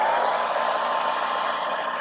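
A hair dryer blows on a freshly painted mech miniature, a loud, steady whooshing rush of air with a constant motor hum, held close and unbroken throughout, with no talking.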